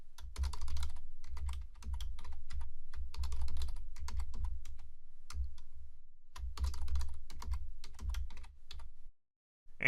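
Quick bursts of typing on a computer keyboard while entering a password, close and clear, with brief pauses between runs of keystrokes.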